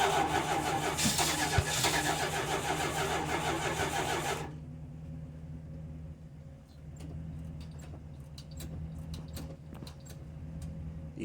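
A car with a mechanical fuel pump cold-starts at 30 degrees, cranking loudly and roughly for about four seconds before catching into a low, uneven idle, heard up close.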